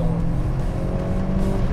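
Steady, loud in-cabin engine drone from a Honda Civic Type R FK8 lapping a track, a constant hum with a clear tonal whine and no speech.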